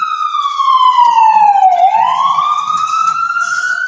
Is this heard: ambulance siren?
yes